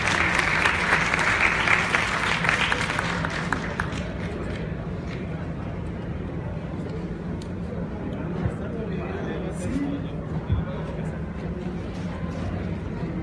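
An audience at an outdoor book fair in Mexico City's Zócalo applauds to welcome an author, with dense clapping for about four seconds that then fades into murmuring and background crowd noise.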